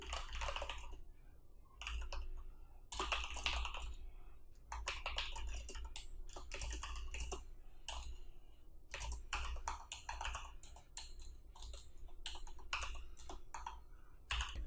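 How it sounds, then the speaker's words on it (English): Close, rapid typing on a computer keyboard while entering HTML text, with bursts of clattering keystrokes broken by short pauses. "Here I can type that text."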